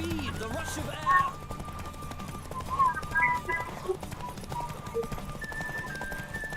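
A horse galloping during a hunt, with steady clip-clop hoofbeats and a whinny, sounding under excited talk throughout.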